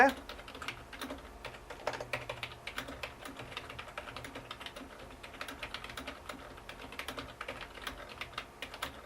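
Rapid, continuous typing on a Corsair K55 RGB Pro XT membrane keyboard, soft muffled keystrokes in an irregular stream, close up with no talking.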